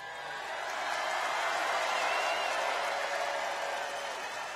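A large outdoor crowd at a presidential campaign rally in Charlotte, North Carolina roars and applauds in a dense, sustained wash that swells slightly mid-way and eases toward the end, with no clear single voices.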